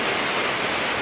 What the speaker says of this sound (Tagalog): Nag-ulan. So mo na may update na to ni ulan.